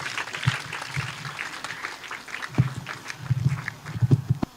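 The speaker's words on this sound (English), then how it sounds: "Let's welcome him with a hand of applause" Scattered, uneven clapping from a small gathering at a district math week celebration, welcoming a circuit supervisor. The claps come in sparse bursts that grow denser toward the end.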